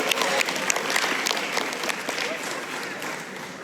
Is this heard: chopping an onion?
no